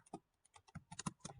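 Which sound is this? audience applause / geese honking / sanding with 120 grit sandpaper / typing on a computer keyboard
typing on a computer keyboard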